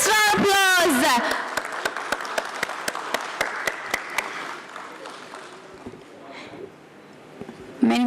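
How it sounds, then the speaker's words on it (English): Audience claps at a company stock listing ceremony, a few seconds of steady applause mixed with crisp individual claps under crowd noise, fading toward the end. "let's have a huge, thunderous round of applause"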